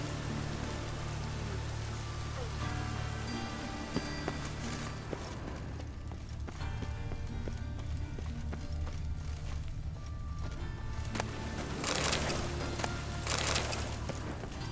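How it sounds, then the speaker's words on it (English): Steady rain in The Witcher 3: Wild Hunt video game patters on surfaces with a soft wash of noise, joined briefly by a louder hissing burst near the end. "raining again"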